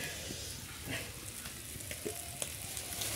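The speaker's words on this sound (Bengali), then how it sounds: "দেখুন এখানে রান্না করা হচ্ছে খাসির মাংস" Goat meat sautéing in a pan, a steady dense sizzle with occasional soft stirring scrapes, close and continuous with no talking.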